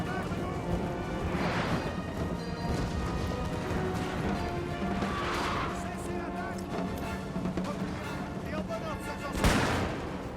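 Musket volleys fired by rank in Napoleon Total War, a Prussian campaign battle: several broad, booming cracks spaced a few seconds apart, over a continuous roar of battlefield din.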